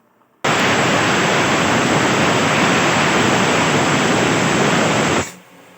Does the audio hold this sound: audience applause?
no